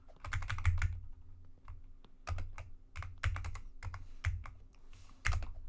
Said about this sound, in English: Maybe just like a couple taps of spacebar is the way